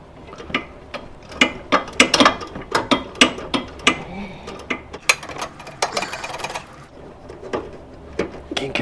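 Socket ratchet clicking while working on a rear wheel bearing of a 2015 Mini Cooper, sharp metallic ticks in uneven bursts with clanks of tools, close up, with faint speech in the background.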